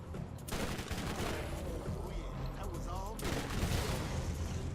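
Gunfire rattles in the video game Borderlands during its Zombie Island of Dr. Ned add-on, with dense continuous shots and booms at steady loudness, overlapped by a player talking.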